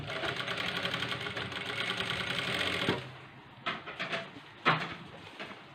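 A sewing machine stitches a blouse sleeve in a steady, close mechanical whirr for about three seconds, then stops, followed by a few short separate bursts of stitching.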